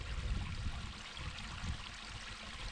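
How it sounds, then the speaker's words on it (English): A shallow brook in the UK countryside flows past, a steady soft wash of trickling and gurgling water, continuous and close, with no voices. "So this is the brook."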